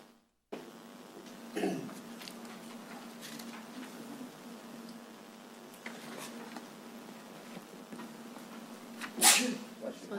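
A single sneeze cuts through a parish council budget hearing, a sharp loud burst near the end over a low room hum, with a smaller cough-like noise earlier.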